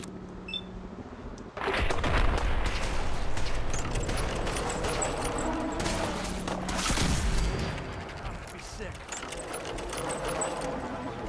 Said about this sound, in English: What the hell are you people shooting at?